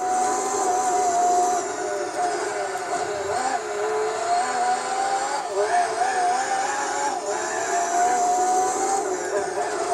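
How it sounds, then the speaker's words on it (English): A Sauber racing car engine in the video game Gran Turismo 4 during an endurance race at Infineon, a loud sustained high-pitched whine with slight pitch wavers, no talking. "What a cool sounding car the Sauber is"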